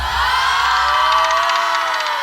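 A studio audience of fans on a TV quiz show cheers and whoops loudly together, a steady, dense crowd roar with shouted voices that holds for the whole two seconds and eases off slightly at the end.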